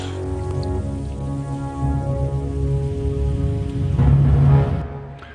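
Steady rain sound effect within an animation score, a continuous hiss of falling drops layered over soft low sustained musical tones that swell briefly near the end.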